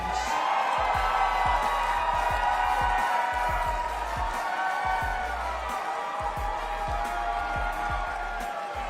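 Steady, full crowd applause with scattered cheers fills a large hall at the New York State of the State address, greeting the New York State Senate leader and continuing loudly without a break over a sustained musical backdrop.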